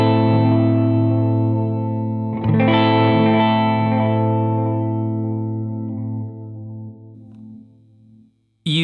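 An Alexander delay pedal shapes an electric guitar chord into a crinkling, warbling modulated echo that swells, then trails off over several seconds before cutting out.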